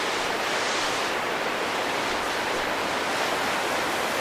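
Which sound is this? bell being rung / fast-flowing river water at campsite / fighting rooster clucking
fast-flowing river water at campsite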